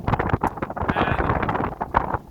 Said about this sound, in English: Very windy outside here today.